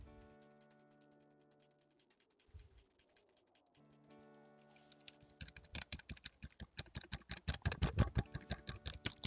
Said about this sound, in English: That's how much I'm clicking this.